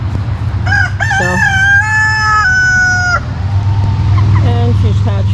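A rooster crows loudly and close, a long drawn-out call, followed by a fainter second crow over a low background hum.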